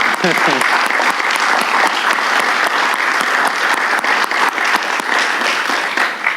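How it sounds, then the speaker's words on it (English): An audience at a conference gathering in Thessaloniki gives the organizers sustained applause, dense and loud with sharp individual claps throughout the hall. "I will say we continue the applause for them because I think they deserve it"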